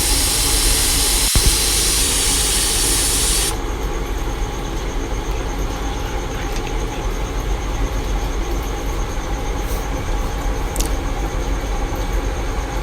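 A pressure cooker cooking meat gives off a loud, steady hissing whistle of escaping steam that runs continuously, bright and sharp for the first few seconds before settling into a lower, constant rushing hiss.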